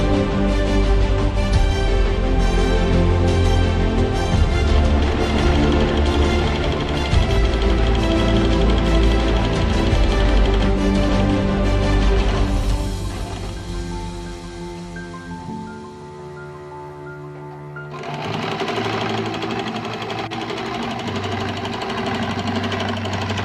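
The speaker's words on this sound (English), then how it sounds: "Now we will be stitching this part." A sewing machine stitches a cotton face mask, running as a loud, steady mechanical whir that eases and slows briefly partway through, then picks back up at full speed. No one talks.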